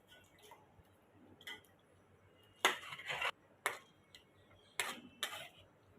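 Raw cashews drop into a pan and are stirred while making kaju bhaji, giving scattered clinks and scraping rattles in short separate bursts over a quiet background.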